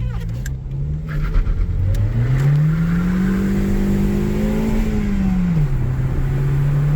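A cheap, light beater car accelerates hard, its engine note climbing steadily in pitch and then dropping at a gear change. The steady, loud drone is heard from inside the cabin with no talk.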